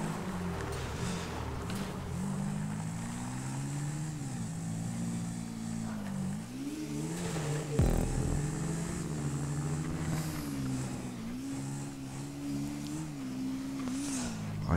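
Motorcycle engine on a Sanchez dirt bike in GTA 5 parkour, droning steadily with rising and falling pitch through loops, a brief thump near eight seconds, continuous and fairly loud throughout.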